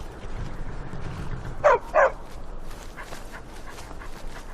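Two quick, sharp dog barks ring out in a Skyrim-style fantasy video game amid a low ambient background, a brief close pair of yips with no talking.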